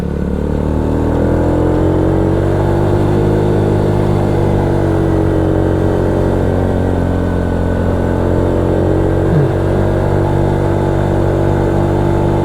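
A Honda Supra X 100 motorcycle climbs a wet uphill road after rain, its small engine droning steadily and close throughout with a slight rise in pitch, no talking over it.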